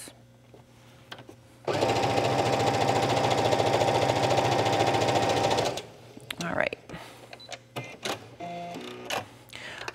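A sewing machine stitches seams in stretchy yoga-pants fabric, running at a fast, steady buzzing rhythm for about four seconds before stopping, followed by scattered handling clicks and rustles.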